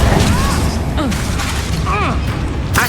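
A Confringo blasting spell from Hogwarts Legacy goes off in a burst of popping, crackling bangs with swooping tonal whooshes, loud and close, with a sharp final crack near the end.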